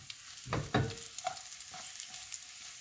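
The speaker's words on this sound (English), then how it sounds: "I want to saute some mushrooms right quick. Just a little bit of oil." Mushrooms sauté in a little oil in a pan, a continuous close sizzle broken early by two quick stirring knocks, then settling into an even crackle with no talking.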